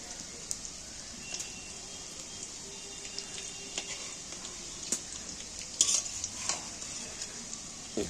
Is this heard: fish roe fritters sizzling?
yes